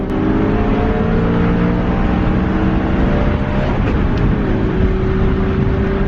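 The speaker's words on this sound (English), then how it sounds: "his supercharged Civic was rolling coal and also really slow" A supercharged Honda Civic engine, running poorly and rolling coal, holds a loud, steady droning note with layered harmonics that stay almost unchanged for the full stretch, with no clear rev rise.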